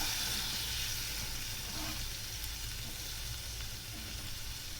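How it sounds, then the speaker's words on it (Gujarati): Dabeli masala sautéing in a pan with a splash of water, a steady close sizzle and bubbling hiss that fills the whole stretch without pause, with no voices. "દાબેલીના મસાલાને બરાબર આપણે સાતળશું"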